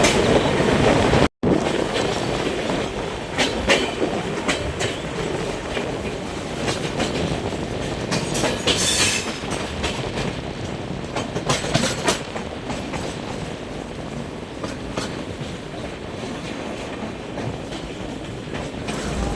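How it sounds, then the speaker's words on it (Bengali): The Brahmaputra Mail express train rumbles steadily and loudly into Dhupguri station, wheels clattering over rail joints with occasional squeals, close by and continuous without talk. "এই ধূপগুড়িতে এখন ট্রেন প্রবেশ করছে দু নম্বর প্ল্যাটফর্ম"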